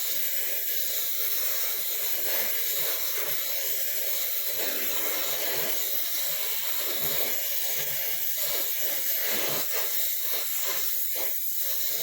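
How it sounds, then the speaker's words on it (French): Steam hisses steadily from a copper heating pipe under a blowtorch, a continuous loud rushing spray with faint crackles throughout and no voices. "Et cette vapeur d'eau, là, faut l'évacuer, sinon, bah, tu peux jamais chauffer."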